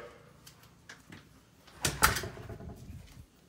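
A house door to the garage shuts with a brief, fairly close thump and rattle. The room is otherwise quiet.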